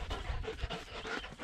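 A dog panting quickly and rhythmically close by at an off-grid wilderness cabin, a steady run of breathy huffs with no talk.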